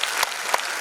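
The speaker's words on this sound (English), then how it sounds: "I want claps." Audience at a school silver jubilee celebration clapping, a short burst of a few sharp claps close by.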